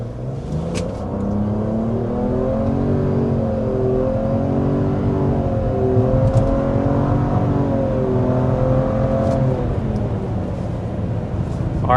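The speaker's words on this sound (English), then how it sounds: "there is the acceleration to 60 miles per hour" A 2026 Nissan Rogue accelerating hard toward 60 mph, its engine note rising steadily in a sustained, fairly loud drone with gradually climbing pitch, heard from inside the cabin without talk.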